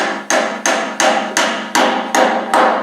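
A hammer drives a glued dowel into a carved oak chest with seven sharp, evenly spaced strikes, each ringing briefly before the next, close and loud with no talk.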